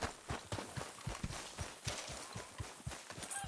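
A horse trots in Red Dead Redemption 2, its quick, evenly spaced hoofbeats repeating close and fairly faint across the whole stretch.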